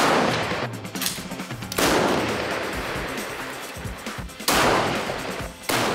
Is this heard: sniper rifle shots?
yes